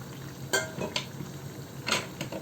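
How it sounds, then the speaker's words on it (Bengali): Cauliflower florets and potato being stirred in a pan, with a few distinct scraping clinks of a utensil against the metal spaced across a quiet kitchen background, no talking. "আলু এবং ফুলকপি সব দিয়ে দেব, ভালোভাবে দিয়ে নাড়া দিয়ে দেব।"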